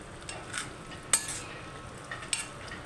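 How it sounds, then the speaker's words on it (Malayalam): A spoon stirs papadam curry in a pan with a soft steady scrape, two sharper clinks of utensil against metal standing out, and no voices. "പപ്പടം ചേർത്ത് മെല്ലെ നമുക്കൊന്ന് ഇളക്കിയെടുക്കാം"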